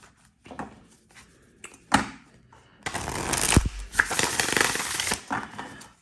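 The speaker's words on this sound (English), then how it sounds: "So I want to shuffle one more time." Tarot cards shuffled by hand close up: a quiet tap or two, then a long burst of dense riffling and slapping lasting about two seconds, with no talking.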